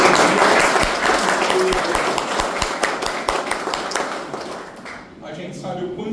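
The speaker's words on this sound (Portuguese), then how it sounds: "eu quero pedir uma salva de palmas para o Edson em nome da DF Praga" An audience at a pest control association event gives a round of applause for Edson, dense clapping that thins to a few scattered claps, with talk running underneath.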